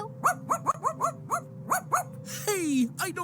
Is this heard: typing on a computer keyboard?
no